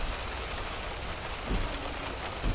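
Steady, dense rain pours down in Euro Truck Simulator 2 while a truck drives along, a constant hiss with a soft low thump or two and no voices.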